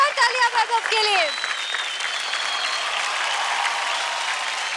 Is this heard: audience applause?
yes